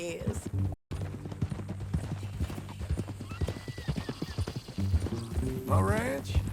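Horse hooves clip-clop in Red Dead Redemption 2, a rhythmic trot of one horse carrying on under talk between characters, with a brief cut and a horse's whinny near the end.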